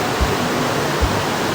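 Water rushing steadily in a river near a hidden waterfall in the Cikidang area, a constant broadband roar with a couple of low thumps, close and continuous with no talk.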